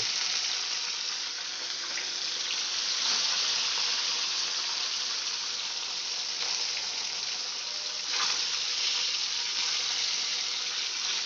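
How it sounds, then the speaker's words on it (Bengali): Catla fish frying in hot oil in a wok makes a steady, close, continuous sizzle with faint crackling and no talk. "মাছগুলো আমি এখন উল্টাবো না, ওর পিঠটা ভাজা হলে তারপর আমি উল্টে দেব।"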